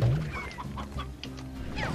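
A chicken in the video game Slime Rancher clucks in a few short, close bursts over a faint background.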